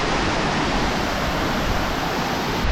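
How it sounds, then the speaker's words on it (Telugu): Penchulakona waterfall roaring at close range, a dense, continuous wash of rushing water that fills everything steadily and loudly, with no voices. "అంతా వాటర్ సౌండ్ ఎక్కువగా ఉంటుంది ఇక్కడ"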